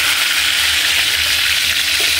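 Tortang talong, a Filipino eggplant omelette, fries loudly in a pan, a dense, even sizzle heard up close and alone for a couple of seconds.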